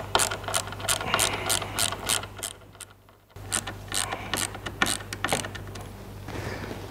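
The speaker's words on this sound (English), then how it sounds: "Now I'll undo the mounting bolts." Ratchet clicking in repeated bursts while mounting bolts on a hydraulic cylinder are undone, close and fairly loud, pausing briefly midway before resuming, over a steady low hum.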